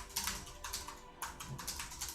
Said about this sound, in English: That's not my clackety keyboard.